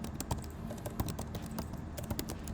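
Keystrokes on a computer keyboard in a Figma design tutorial, a rapid irregular run of close clicks and taps, with no talk.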